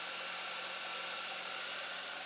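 A car engine idles slightly high and steady with no stumble, giving a continuous even whooshing drone that holds unchanged throughout, close and with no talking.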